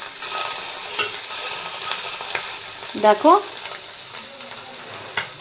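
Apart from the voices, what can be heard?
tangra fish frying in oil, being flipped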